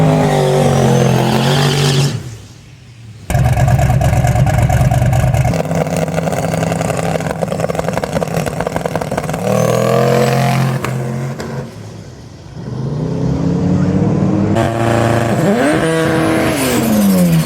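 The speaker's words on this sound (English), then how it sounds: "And that was loud. That Civic was insane." A Honda Civic revs hard and races off at a drag strip, a loud, sustained engine roar with rising pitch sweeps, a brief dip as it shifts, then more hard acceleration and a fading pass near the end.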